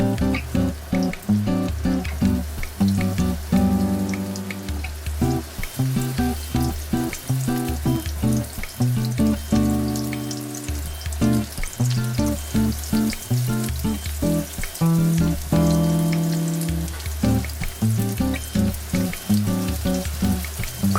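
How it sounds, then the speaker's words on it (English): Hamburg steaks fry in a thinly oiled pan over medium heat, giving a steady sizzle that runs for the whole stretch beneath prominent rhythmic background music. "Place the Hamburg steaks on the pan and try not to let them touch each other."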